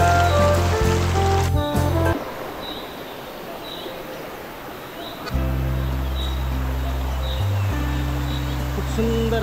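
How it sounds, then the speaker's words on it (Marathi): Water from Dhangar waterfall near Badlapur pours down in a steady, loud broadband rush that carries on without a break, with background hum and faint bird-like chirps mixed in. "हा प्रवाह सरळ खाली खालच्या बाजूला हा धबधबा खाली पडतो।"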